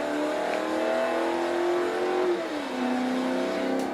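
An AMC Javelin AMX muscle car in the Forza Motorsport 3 video game revs hard, its engine note climbing steadily through short gears, dropping at a quick shift and rising again, loud and close with no talk.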